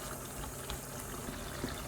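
Chili paste with dried anchovies fries in a pan with a steady, quiet sizzle and soft crackling, no voices present.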